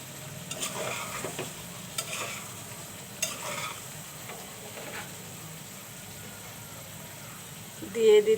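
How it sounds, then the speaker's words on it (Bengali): Potatoes stirred into a pan of browned chicken skin, gizzards and liver, a steady sizzle with scraping stir strokes, a brief louder burst near the end, and some faint talk in the background. "এখন আমি আলুগুলো দিয়ে দিব।"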